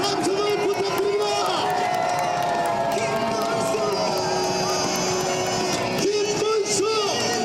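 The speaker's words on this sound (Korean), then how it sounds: "다시 한번 뜨거운 박수와 함성을 부탁드립니다" Crowd cheering and shouting at Kim Moon-soo's presidential campaign rally in Hongseong, a loud, dense roar that holds steady throughout, with amplified voices and music over it.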